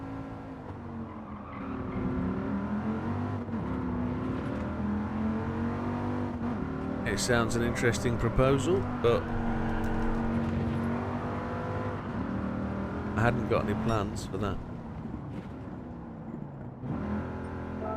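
A Mini's engine drones and revs in a racing video game, rising and falling in pitch with bursts of acceleration, heard steadily underneath people chatting.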